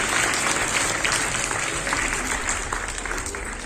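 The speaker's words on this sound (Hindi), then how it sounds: "जोरदार तालियां बजाइए उसके लिए।" Audience applause for a junior-category prize winner at a school painting competition held on World Water Day, steady crowd clapping throughout, close and continuous for a few seconds.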